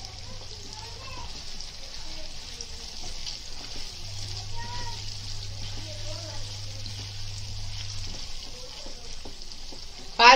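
Soya and potato sabji sizzles and fries steadily in a pan over a gas flame, a continuous crackling hiss with a low hum underneath, while someone talks intermittently.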